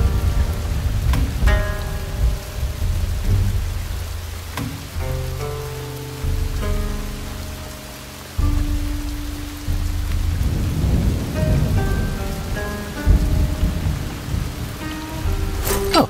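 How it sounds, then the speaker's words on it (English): Heavy rain pours with rolling thunder in the Shadow Tactics video game, a loud continuous downpour under deep rumbles, while sustained musical tones hum through the storm. "So much rain."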